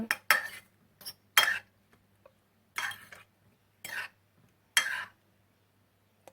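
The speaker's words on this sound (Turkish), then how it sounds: "Ve onları da yine çatal yardımıyla şöyle güzelce karıştıralım arkadaşlar" A fork mixing cheese balls into whisked egg in a bowl, giving about seven sharp clinks and scrapes in irregular bursts with short quiet gaps between, close and fairly faint.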